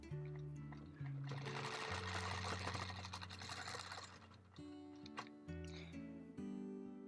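A sewing machine stitches through quilt layers in close, steady bursts of fast mechanical whirring, stopping and restarting a few times with faint clicks between runs.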